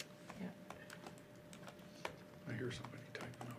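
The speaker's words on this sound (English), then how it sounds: "I hear somebody typing over." Faint keyboard typing during a municipal council meeting, quick light key clicks in an irregular stream, distant and quiet beneath room noise.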